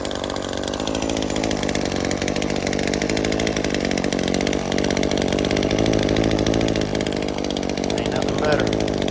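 Weed eater cutting grass on a slope too steep for a push mower: a loud, continuous, buzzing two-stroke engine whine close by, holding a steady pitch for the full stretch.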